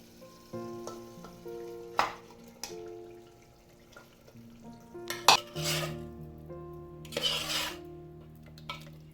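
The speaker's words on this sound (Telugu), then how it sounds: "సో ఇందులోనే నేను ఇప్పుడు మటన్ యాడ్ చేసేస్తున్నాను." Mutton pieces hit hot frying masala in a pan and are stirred, giving a low steady sizzle broken by scrapes and metal clinks from a spoon against the pot, with a louder sizzling burst as the meat goes in.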